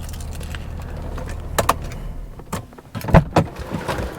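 A small bunch of car keys for a cheap used Mazda MX-5 jingles in a few short metallic bursts, close by and alone, with faint background noise in between.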